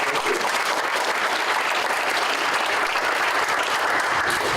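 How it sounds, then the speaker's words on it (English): Steady, dense applause from a large crowd, loud and continuous throughout with no pauses. "Give him another round of applause."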